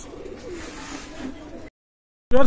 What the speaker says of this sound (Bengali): এক জোড়া কবুতর আছে